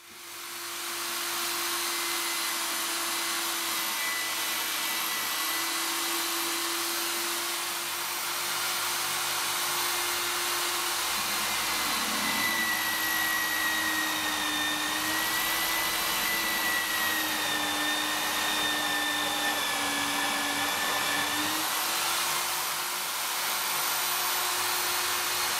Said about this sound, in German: da bohre ich mir jetzt links und rechts 25 mm Löcher durch.